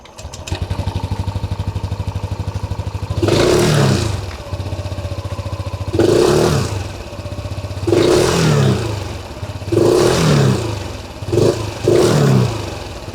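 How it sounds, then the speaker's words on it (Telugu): A Hero Xoom 160 maxi scooter engine idles with a steady putter, then revs sharply five or six times in short bursts, each dropping back to idle. "ఈ మ్యాక్సీ స్కూటర్లో ఎగ్జాస్ట్ నోట్ ఎలా ఉంటుంది అనేది ఒకసారి చూద్దాం మనం."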